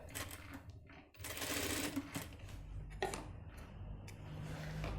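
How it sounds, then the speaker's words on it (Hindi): A sewing machine stitches across the back pocket of a pair of gents' trousers in quick, close bursts of rapid mechanical chatter, pausing briefly between runs. "इसके सबसे ऊपर एक सिलाई मारेंगे आप इस तरीके से, ताकि ये नीचे ना आए।"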